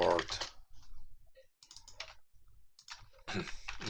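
Computer keys are typed in short clattering bursts under a man's calm speech while he codes in Unity with C#, the clicks close and fairly faint.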